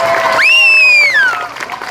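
At a Willimantic rally against white supremacy, the crowd claps close by. A loud, sustained whistle or whoop rises over the applause, then fades as the clapping thins out.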